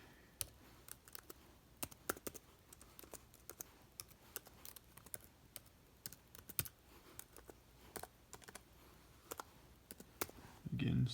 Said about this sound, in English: the dryness of me typing stuff in